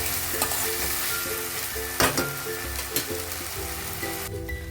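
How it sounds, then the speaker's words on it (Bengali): Ginger-garlic paste frying in hot oil for chicken ghugni, a dense close sizzle broken by a few sharp spatula knocks and stirring scrapes against the pan. "দিয়ে কাঁচা গন্ধটা যাওয়া পর্যন্ত ভেজে নিতে হবে"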